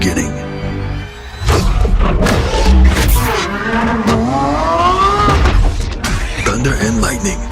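Hybrid V12 supercar engine of a 2023 Lamborghini Revuelto, loud revving with rising and falling pitch sweeps and sharp bursts close by, blended with a dramatic musical soundtrack.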